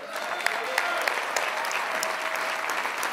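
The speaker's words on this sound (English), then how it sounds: "A round of applause." Sustained applause from a large convention audience at the opening of the National Action Network convention, a dense steady roar of many hands clapping with a few sharper claps standing out, fairly loud and unbroken.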